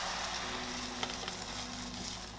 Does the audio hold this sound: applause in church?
no